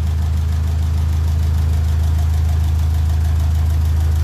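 A 1957 Ferguson 35 tractor with a TVO engine idles steadily close by, a loud, even low rumble with a faint knocking pulse running throughout and no talking.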